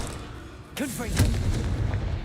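Confringo blasting spell cast in Hogwarts Legacy, a sudden loud booming burst with a whooshing, swooping tail, the explosive rumble carrying on under sustained battle noise.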